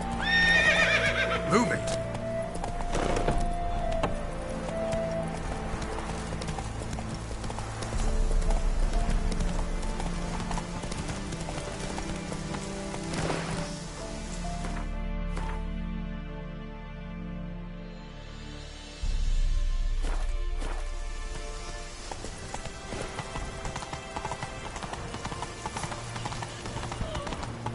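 Roach, the horse in The Witcher 3, moves with clip-clop hoofbeats and whinnies amid game music, then slows. Voices talk over the hooves at points.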